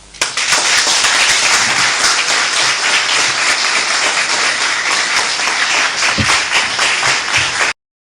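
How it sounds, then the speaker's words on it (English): Dense, loud applause from a large audience at a Ghanaian political gathering after a speech closing with a blessing for Ghana, sustained and steady for about seven seconds before cutting off abruptly. "Another round of applause."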